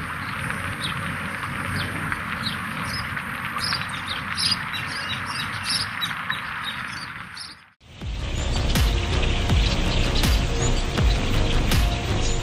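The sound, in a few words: flock of migrating birds calling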